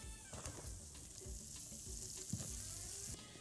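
Garlic fries briefly in melted butter in a pan for butter-sauce fish, a soft continuous sizzle broken by a few stirring knocks and scrapes, fairly quiet.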